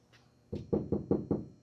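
Knuckle taps on an aluminum body panel of a 427 Galaxy lightweight drag car, five close, hollow knocks in a quick, even rhythm after a faint first tap.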